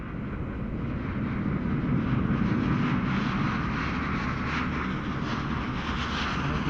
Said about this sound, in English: And we have yet another Ryanair coming in.